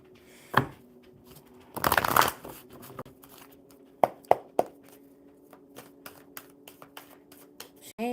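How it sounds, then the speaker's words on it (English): Someone shuffles a deck of cards during a live card-reading session, making several quick riffling bursts and soft taps and snaps close to the microphone, with a low steady hum underneath and no talking. "One more good shuffle."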